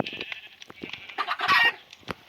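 A Minecraft chicken clucks in quick, bright bursts, several short calls close and clear with no talk over them.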